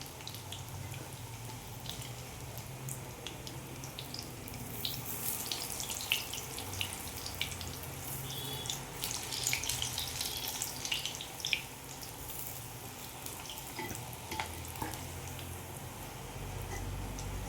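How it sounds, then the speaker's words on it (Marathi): Spinach fritters (palak bhaji) sizzle steadily in hot oil, a constant bubbling hiss with faint crackles and occasional pops, moderately quiet and alone without talk. "अशा प्रकारे तळून घ्यायचे।"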